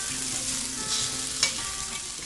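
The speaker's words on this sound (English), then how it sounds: "You'll be turning the pieces occasionally until the meat is browned on all sides" Venison stew meat browns in a Dutch oven, giving a steady, close sizzle with a couple of faint stirring clinks and no talking.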